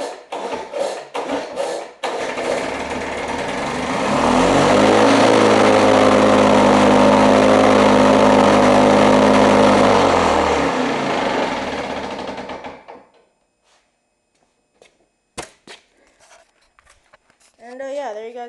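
A salvaged Lawn-Boy lawn mower engine starts up and runs at a loud, steady drone for several seconds, then shuts down and winds to silence, with a few clicks and faint sounds after.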